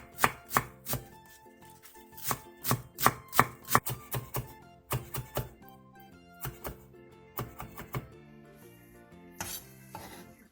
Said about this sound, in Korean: 쪽파 한 줌을 오징어와 비슷한 크기로 잘라주세요.